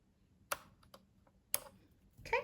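Leather cord tails on a beaded wrap bracelet are trimmed with scissors, giving three quiet, sharp snips spaced about a second apart.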